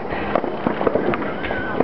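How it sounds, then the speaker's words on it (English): New Year fireworks exploding in 2010, a dense run of popping and crackling bursts at a distance with people talking nearby. "You'll never see anything like all these fireworks"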